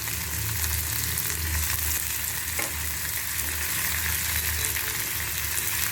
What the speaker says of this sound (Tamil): போட்டு நல்லா வதக்கணும் வதக்கிட்டு அப்புறமா தக்காளி போடணும்